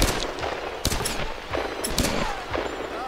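Rapid bursts of video game gunfire from Tomb Raider, several volleys of sharp cracks spread across a few seconds over a steady background rumble and music.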